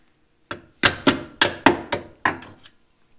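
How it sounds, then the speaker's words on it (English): A hammer taps Calvert leaf spring sliders into place on a vehicle's suspension, about nine sharp close metallic strikes in an uneven rhythm with short pauses between them. "I'll need a hammer to tap them in."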